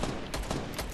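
A brief, dense rattle of rapid gunfire in a Fortnite match, fairly faint and continuous for about a second, with no voices over it.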